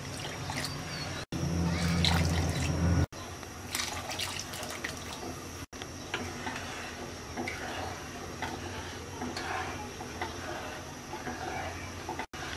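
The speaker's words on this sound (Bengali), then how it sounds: "দিয়ে দিচ্ছি 3 কাপ পানি।" Three cups of water poured into a wok of sugar for a raw mango Kashmiri pickle, a brief close splashing pour followed by faint kitchen noise and a voice talking.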